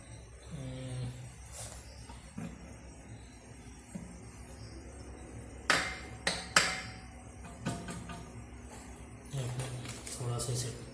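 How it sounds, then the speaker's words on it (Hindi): A Honda Activa scooter engine part is tapped into place over an oil seal with a few sharp, separate metallic knocks, close and of middling loudness. Someone talks throughout. "थोड़ा सा इसे ठोक देते हैं"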